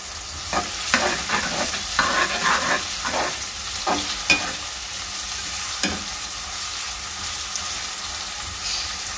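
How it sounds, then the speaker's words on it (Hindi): Thinly sliced onions fry lightly in a pan for a cabbage and egg sabzi, a soft continuous sizzle broken by scraping stirs from a spatula at close range. "प्याज को हल्का फ्राई करना"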